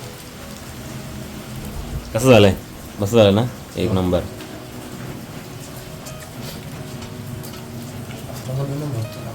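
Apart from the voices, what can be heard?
heavy monsoon rain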